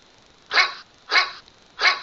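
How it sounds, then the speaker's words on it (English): Pet dog Scoop lets out three sharp, evenly spaced barks at a steady rhythm, each short and moderately loud against a quiet room, with no one talking. "with my dog Scoop."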